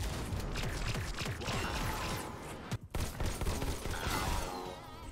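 Gunfire in the VR shooter Robo Recall, a steady rattle of rapid shots and mechanical clatter, fairly faint and continuous, with one brief gap partway through.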